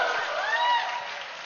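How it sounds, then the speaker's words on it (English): An audience at a meditation summit event in India claps and cheers for an upcoming film, a brief dense burst of applause with whoops that fades slightly toward the end. "Can we make a loud noise and clap for this film and show our excitement?"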